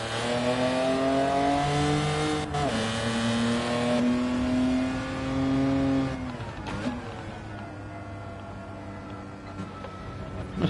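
A 2-litre single overhead cam sports car engine in Gran Turismo 7 revs and holds a high droning pitch, then drops off and rises again through gear changes, loud and steady throughout.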